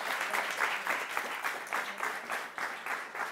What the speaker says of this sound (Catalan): que t'aplaudeixin tots, home